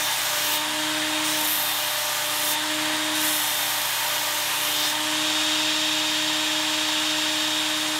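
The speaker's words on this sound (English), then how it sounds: "I'm letting the belt do the work and the weight of the chisel itself." A Ken Onion Work Sharp belt sharpener grinds a chisel bevel, a steady close motor whine with a constant abrasive hiss that shifts slightly as the blade is swept across the belt, with no talk.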